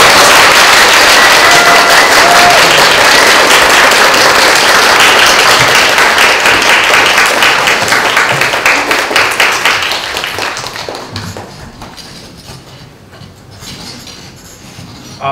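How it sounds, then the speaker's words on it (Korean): Audience applause welcoming two authors onto the stage at a comics festival meet-and-greet, loud sustained clapping from a large crowd that thins and fades out over the last few seconds. "그럼 박수로 두 작가님을 모셔보도록 하겠습니다. 박수 부탁드립니다."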